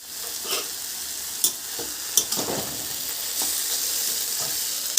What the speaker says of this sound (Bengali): ভাজা ভাজা হচ্ছে আর কিছুক্ষণ ঢেকে রেখে তারপরে আমি নামিয়ে দেবো